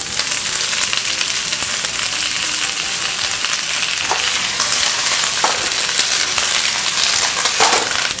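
Cabbage is stir-fried in a hot wok, giving a continuous loud sizzle with occasional sharp metallic clanks of the spatula against the pan.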